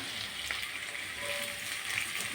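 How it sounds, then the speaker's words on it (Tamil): Sautéed okra sizzles in a frying pan while being mixed, a dense continuous hiss of frying with faint scraping from stirring, steady and close, no talking. "நமக்கு நம்ம வதக்கி வச்சா வெண்டைக்காய்"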